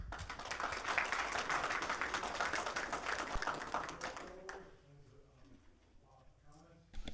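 Audience clapping fills a planning commission meeting room, dense and steady for several seconds before fading, with voices talking beneath and afterward.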